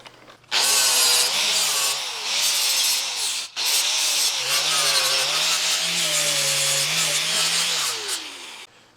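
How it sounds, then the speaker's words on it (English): A flap disc on an angle grinder works metal on a heat exchanger fixture, a loud continuous grinding whine that starts abruptly, breaks off briefly midway, then resumes with shifting pitch until it winds down near the end. "So I'll throw my flap disc back on."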